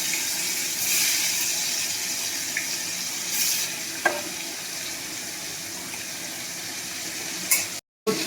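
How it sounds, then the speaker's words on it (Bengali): Hilsa fish fry in a pan, giving a steady, close sizzle with a few sharp clinks of a utensil and a brief cut-out near the end. No one speaks. "দেখুন এখানে মাছ ভাজা হচ্ছে"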